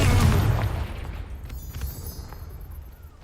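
Confringo fire-blast spell detonates in Hogwarts Legacy with a loud, deep explosion at the start, then a rumbling, crackling decay that fades away over a few seconds.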